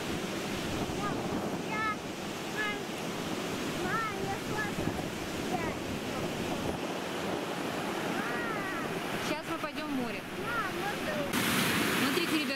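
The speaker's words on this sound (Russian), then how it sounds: "Смотрите, ребята, как море бушует сегодня." Rough Sea of Azov surf breaking along a sandy shore, a steady roaring wash with gusty wind buffeting the microphone throughout; faint voices and birdlike chirps sit under the constant noise.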